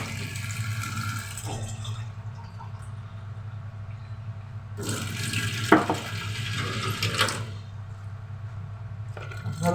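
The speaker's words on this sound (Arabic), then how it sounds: "انا هجيب بقى معايا ميه هنا" Water running and pouring for kneading flour dough for homemade roqaq in a home kitchen, with two rushing bursts of splashing flow separated by quieter dripping and a low steady hum underneath.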